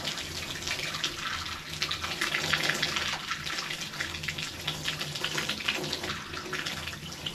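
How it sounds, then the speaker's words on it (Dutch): A tap runs lukewarm water in a steady, continuous, close rush of splashing flow, with no talking over it. "Nu ga ik het eerst lauw water laten lopen."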